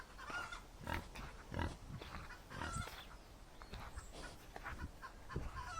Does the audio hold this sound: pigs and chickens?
yes